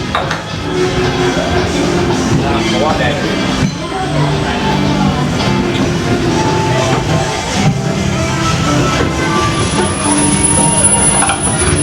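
Walt Disney World Railroad train at Magic Kingdom running steadily, with continuous rumbling, clanking and metallic rattles throughout, and faint voices in the background.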